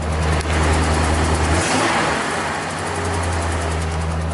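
A classic Dodge 300 club cab dually one-ton truck idles with a raspy exhaust. The engine gives a steady, deep drone that swells briefly early on, then settles into an even rumble without speech.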